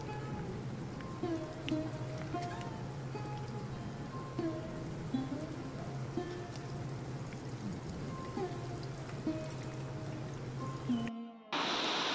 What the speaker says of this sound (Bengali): এরই মধ্যে দেখো মুষলধারে বৃষ্টি নামলো, মুষলধারে, মানে পুরো বিশাল জোর আওয়াজ হচ্ছে